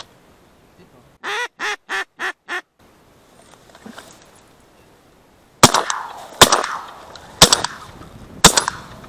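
A quick run of duck quacks, then four loud, sharp shotgun blasts spaced about a second apart during duck and goose hunting on a river floodplain, with quiet gaps between shots.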